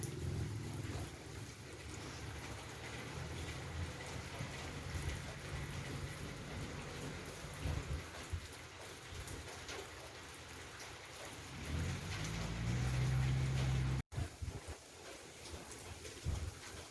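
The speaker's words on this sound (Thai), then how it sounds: "ลมแบบนี้ครับทั้งคืนเลยครับผม" Storm Noul blows wind and rain through the night in northeastern Thailand, a constant rushing hiss of rain with gusting low roars swelling and easing, one abrupt cut near the end.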